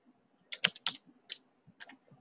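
Typing a web address on a computer keyboard, a few quick clusters of close key clicks with short pauses between them, heard alone.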